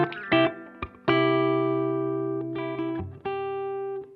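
An electric guitar plays through a Strymon Iridium on its Round mode, a Fender Deluxe Reverb amp model, with reverb added. A few clean plucked notes are followed by sustained, ringing chords that decay with a soft room-like tail, close and clear.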